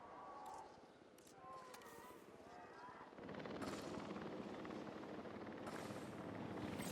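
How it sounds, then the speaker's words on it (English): Helicopter in the video game Jurassic World Evolution, its rotor thumping steadily and getting louder halfway through as it comes closer, under quiet game sounds. "Okay, so what about the helicopter?"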